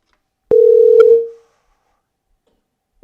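A single steady telephone tone sounds for about half a second after dial is pressed on an Amazon Connect phone demo, fading out, with a brief click at the start and another tone beginning at the very end.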